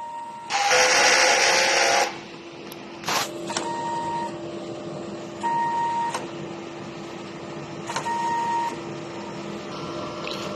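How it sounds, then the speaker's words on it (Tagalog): A DTF printer runs a print head cleaning cycle, opening with a loud two-second whir, then quieter mechanical hums, clicks and repeated short electronic beeps over a steady background drone. "Head clean."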